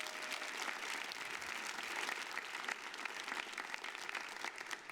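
An audience at a Rose Queen announcement and coronation ceremony applauds in a continuous, thick wash of clapping that holds at a fairly soft level throughout, without talk.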